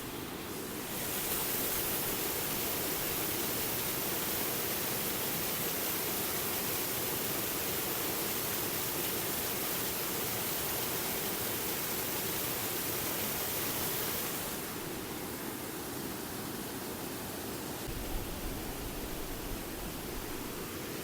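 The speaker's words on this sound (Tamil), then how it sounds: "தண்ணி எவ்வளோ வேகமாக போகுதில்ல." Fast-flowing water rushing over Lumsdale waterfall in the UK, a loud, steady broadband roar that fills the whole stretch, easing slightly toward the end with no voices over it.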